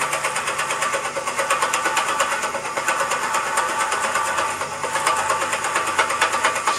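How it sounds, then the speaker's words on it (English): A 2 1/8 inch Forstner bit bores into a block of material about an inch thick, producing a loud, rough, steady whirring drone with rapid pulsing chatter, close by and continuous with no voices. "To make it a little bit easier, I started with a 2 1/8 inch Forstner bit."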